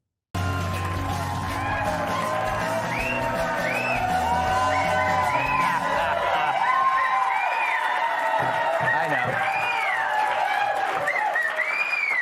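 A studio audience claps and cheers steadily for several seconds, with dense applause, whoops and shouts, while a voice speaks faintly beneath the noise as the crowd fades.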